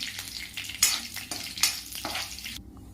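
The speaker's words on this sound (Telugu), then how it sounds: "ఒక చిన్న దాల్చిన చెక్క ముక్క కొంచెం జీలకర్ర వేసుకోవాలండి ఇవన్నీ ఒకసారి బాగా ఫ్రై చేసుకోవాలి" Cinnamon and cumin frying in hot oil: a crackling sizzle with bursts of spattering and stirring scrapes, moderately close, before the sound cuts off abruptly near the end.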